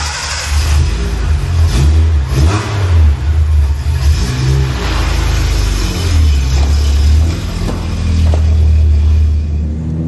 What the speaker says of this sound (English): I think we should take it for a drive, see how these tires handle the asphalt.